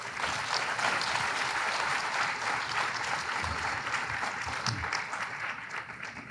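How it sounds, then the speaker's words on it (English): An audience at a commissioners' court meeting claps continuously in a dense, steady round of applause that holds for several seconds before tapering slightly at the end. "Another round of applause,"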